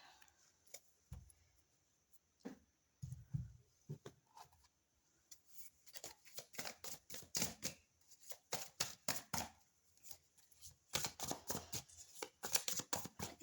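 Tarot cards are shuffled and drawn close up, quiet papery flicks and riffles coming in scattered bursts, then quick dense runs of snapping cards, with no talk over them.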